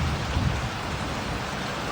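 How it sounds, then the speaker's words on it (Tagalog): Heavy rain pours steadily during flooding in Midsayap, a dense, continuous hiss of downpour with no pauses and no voices. "Bumuhos din ang malakas na ulan sa bayan ng Midsayap."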